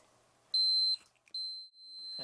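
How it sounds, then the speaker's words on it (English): Two sharp, steady high-pitched electronic beeps from a multimeter continuity test, each about half a second long, separated by a brief pause, close and clear in an otherwise quiet room. "you'll get an audio alert that you have good continuity"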